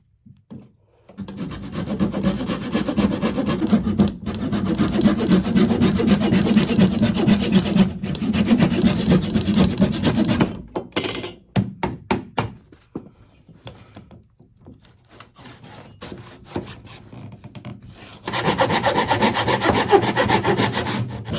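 An old desk being dismantled, with a glued wood piece pried and broken off: sustained creaking, grinding wood-on-wood rubbing for about ten seconds, then scattered cracks and snaps, then another loud stretch of scraping.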